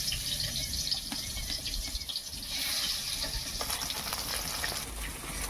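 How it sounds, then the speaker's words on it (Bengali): Tilapia fish frying in hot mustard oil in a kadai, a steady bright sizzle and crackle that runs throughout, rising and falling slightly in intensity as the pieces cook. "তেলটা গরম হয়ে গেছে। এবার আমি মাছগুলো একটু একটু করে দিয়ে দিচ্ছি।"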